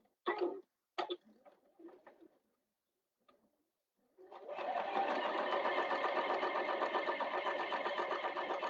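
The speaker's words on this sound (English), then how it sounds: "I'm top stitching on the folded edge, not on the open end" After a few soft clicks and knocks, a sewing machine starts up and runs steadily, top stitching along the folded edge of a handbag lining, close and clear.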